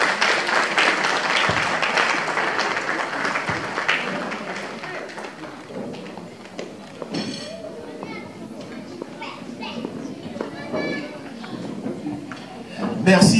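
A church congregation applauds to acclaim the Lord: sustained crowd clapping mixed with voices and cheers, loudest at first and then thinning, with talk throughout.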